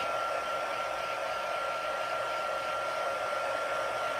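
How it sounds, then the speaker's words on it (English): A heat tool blowing steadily to dry stamped ink on paper cards, a continuous close whooshing hum with a faint tonal whine, alone and unbroken throughout. "I'm going to just grab my heat tool. And I'm just going to run over these just kind of quickly to see if I could dry some of the ink"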